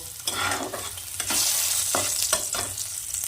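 Onions fry in oil in a pan for Bengali prawn bhuna, with a close, continuous sizzle broken by repeated scraping strokes of a stirring spoon.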